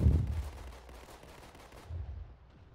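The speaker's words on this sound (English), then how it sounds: "I'm shooting a pistol over there really fast for no reason." Rapid pistol fire in Halo MCC: a burst of loud, dense shots at the start, then a quieter run of gunfire trailing off, with a second thump near the end and no talk.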